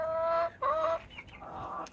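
Garden chickens clucking close by, a few short, loud, throaty clucks in quick succession, alone without talk.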